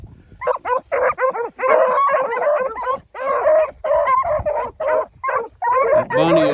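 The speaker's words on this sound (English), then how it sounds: "We'll ease up here and watch these dogs here for a minute" A pack of hunting dogs chasing a rabbit bark, yip and whine in rapid, overlapping bursts, loud and close throughout, with a voice faintly audible underneath.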